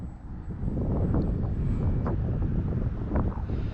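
Strong wind blows into the microphone at an RC flying field, a steady, loud low rumble with gusty buffeting and no talk.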